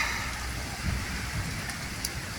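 Steady rain falls on an evening in May in Saltivka, Kharkiv, as a continuous, even hiss of drops with no voices.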